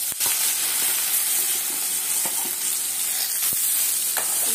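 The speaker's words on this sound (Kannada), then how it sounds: "ಈಗ ಬೇಯಿಸ್ಕೊಂಡಿರುವಂಥ ಬಾಳೆಕಾಯಿನ ಹಾಕ್ತಾ ಇದ್ದೀನಿ." Boiled raw banana fries in a pan with dried red chillies and curry leaves over a medium flame. It gives a continuous close sizzle, broken by sharp scrapes and knocks of stirring.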